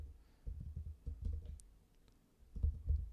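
Typing code on a computer keyboard, heard as soft, muffled clicks and taps in short uneven clusters, quiet and close, with no talking.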